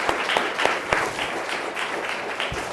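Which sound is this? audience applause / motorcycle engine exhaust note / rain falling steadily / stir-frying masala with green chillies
audience applause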